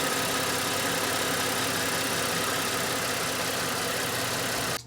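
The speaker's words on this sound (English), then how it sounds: "here's the engine on." A 2007-2015 Mazda CX-9 engine idles steadily and smoothly, with an even low rumble close by and no speech.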